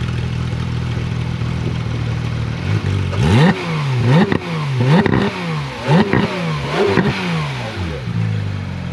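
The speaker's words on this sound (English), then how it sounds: "Give me a couple revs, man. Just a couple revs." A Porsche 911 GT3 engine idles, then revs hard in a series of sharp blips, roughly five or six quick throttle stabs, loud and close.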